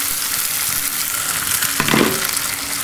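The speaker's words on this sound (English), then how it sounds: "that is your cue to toss your spaghetti in with the infused oil" Spaghetti tossed into hot chili-and-herb infused oil in a pan, a steady close sizzle that swells briefly as the pasta lands, no talking.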